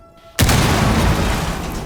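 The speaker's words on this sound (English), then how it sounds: "the explosion triggered by a frag grenade" A frag grenade detonates in Rainbow Six Siege, bursting in as one sudden loud boom after near silence, then rolling into a dense, sustained roar of debris and rumble that stays loud to the end.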